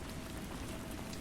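Steady, even rain hiss with dense patter of drops on a surface, constant and unbroken throughout, with no voices.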